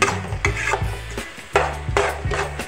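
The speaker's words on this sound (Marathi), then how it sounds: "अंडे टाकल्याच्या नंतर अंड्याची चटणी सतत फिरवायची आहे" Egg bhurji made from ten eggs is stirred around a hot pan with a spatula, giving repeated scraping and knocking strokes in an uneven rhythm, close and fairly loud, with no voices.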